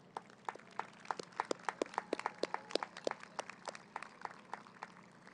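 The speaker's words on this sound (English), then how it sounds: "give them one final round of applause and appreciation" Graduates of Southmoore's class of 2020 applaud their audience at a graduation ceremony: a thin, scattered patter of separate handclaps, faint and somewhat distant, with no voices over it.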